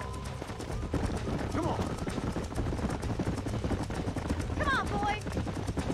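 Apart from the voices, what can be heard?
horses galloping, hooves clip-clopping, from the video game Red Dead Redemption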